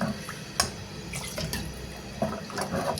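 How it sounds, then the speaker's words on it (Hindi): Water pours into a pan of chicken and potato curry in a home kitchen, a steady close splashing and running flow with a few brief louder gushes, no talk. "इसमें पानी जो है वो ऐड करेंगे।"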